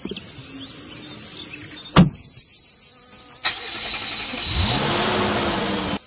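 A car engine revs as a sound effect in a children's numbers learning app, starting with a sharp click, then a rising, steady engine roar that swells louder toward the end.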